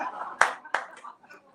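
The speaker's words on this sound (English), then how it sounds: "You can clap for that." A brief burst of applause from an audience at a poetry reading event, a couple of distinct claps standing out before fading quickly.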